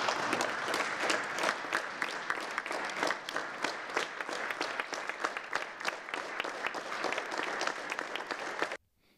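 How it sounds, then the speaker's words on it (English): Sustained applause from a large crowd, steady and fairly loud, continuing for several seconds before cutting off abruptly. "the applause that followed Nigeria's presentation"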